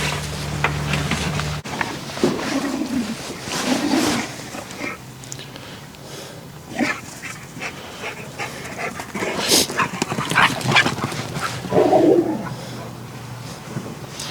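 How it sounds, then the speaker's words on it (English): Farm dogs play-wrestling at close range: scuffling, panting and rough playful growls come in bursts over about fourteen seconds, while birds coo and call in the background. "while we got dog wrestling, WWE of the canines going on, that's how they play. They're not fighting."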